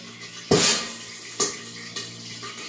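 Hot oil in a covered wok on a gas stove pops and spatters as water hits it, one sharp loud burst followed by two smaller cracks, heard from a short distance outside the kitchen.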